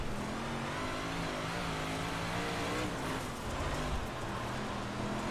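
A 358 modified race car engine in the iRacing sim at Limaland revs hard and continuously, its throttle rising and falling in a loud, steady drone with no talk over it.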